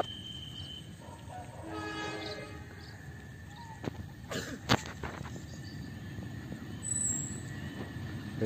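A local Bandung Raya train passes on the railway track near Rancaekek station, with a horn blast, rumbling wheels and sharp clanks of passing cars, heard from trackside at moderate volume.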